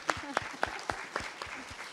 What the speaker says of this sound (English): give them a warm